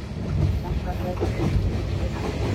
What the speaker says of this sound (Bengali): আমাদের ট্রেনটি এখন Joydebpur junction rail station through pass করে যাচ্ছে